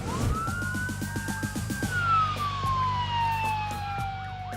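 A wailing emergency siren rises and falls loudly over the rumble of a vehicle engine, with a second siren tone layered in, as emergency vehicles respond to a staged construction-vehicle crush drill in Dubai.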